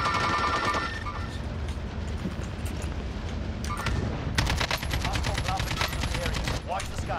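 Gunfire in a Call of Duty: Modern Warfare (2019) match, with dense rapid bursts that grow heavier in the second half over busy game ambience.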